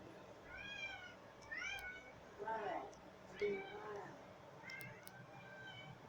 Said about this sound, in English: That is not my cat.